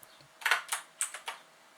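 Keys on a computer keyboard are tapped slowly in a short, quiet burst of about five separate clicks spaced irregularly, with no voices.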